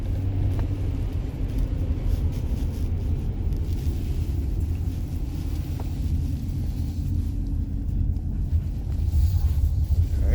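A 2019 Kia Sorento 3.3L with a misfire drives along, its engine a steady low rumble heard from inside the cabin with faint irregular stumbles and a few light clicks.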